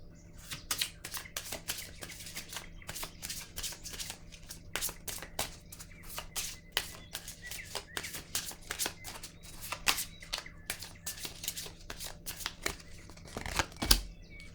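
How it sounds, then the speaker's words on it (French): Cards from a deck are handled and a pink card is drawn, giving a rapid run of close, crisp flicking and riffling clicks that continues steadily for many seconds, ending with a louder snap. "Je vais piger une carte rose pour ici."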